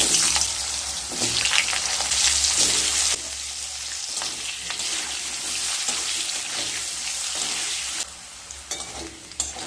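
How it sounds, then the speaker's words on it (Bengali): Potatoes frying in a pan of oil for a drumstick and katla fish curry, giving a close, steady sizzle broken by scraping stirs, with no talking. "এবার ওই তেলের মধ্যে আলুগুলোকে ভেজে নেব।"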